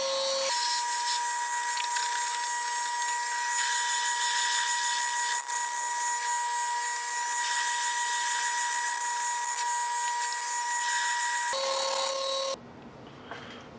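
A drill press bores through an acrylic pen blank, a steady high whine with a faint rhythmic rattle held for about twelve seconds before cutting off.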